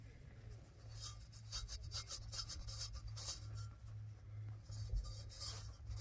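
Ash being rubbed off a freshly fired ceramic mug in a Salado-style pottery workshop: close, fairly quiet dry scratchy rubbing in repeated short strokes, with no talking.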